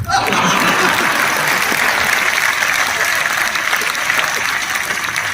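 A crowd at a Hindi comic poetry gathering breaks into loud, continuous clapping, with scattered chuckles mixed into the dense applause throughout.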